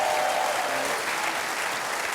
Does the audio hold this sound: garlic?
no